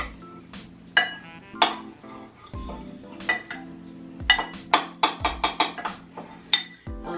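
A metal spoon stirs oregano, cumin, sage and coriander into a big bowl of Parmesan, giving a run of irregular clinks and scrapes against the bowl, close and bright, with quicker taps bunching up toward the end.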